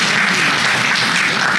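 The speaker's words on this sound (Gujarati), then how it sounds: "એમની પણ તાળીઓ" An audience at a Gujarati talk about a museum claps in a dense, steady burst of applause, loud and close, with no break throughout.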